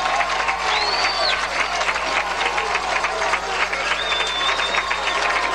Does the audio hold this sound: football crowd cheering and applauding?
yes